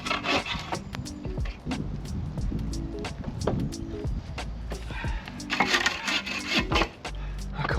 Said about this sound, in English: then got sawing the rest so that they'd fit